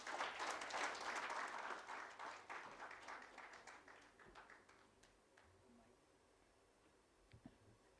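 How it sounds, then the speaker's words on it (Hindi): An event audience claps enthusiastically for a speaker. The loud burst of applause fades away over several seconds, leaving scattered faint claps and taps near the end. "एक बार जोरदार ताली"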